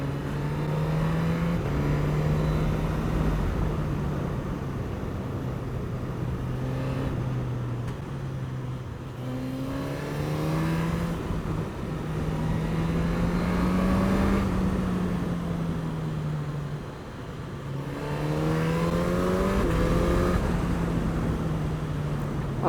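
A 2021 Suzuki GSX-S1000 motorcycle pulls hard along an open road, its engine note rising through the gears in steady sweeps with loud wind rush throughout and no talk.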